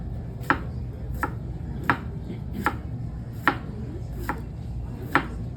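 A knife chops food on a cutting board in a kitchen: seven crisp, evenly spaced strikes roughly every three-quarters of a second, close and clear over a low steady background hum, with no talking.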